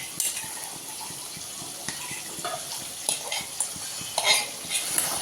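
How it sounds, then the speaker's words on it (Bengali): Mutton sautés in a hot pan as a utensil stirs it, giving a steady sizzle and frying hiss broken by repeated scraping and clinking of metal against the pan, heard close up with no talk. "এটাই মটনটা কষা হচ্ছে, আর ওটাই চিকেন কষা হচ্ছে।"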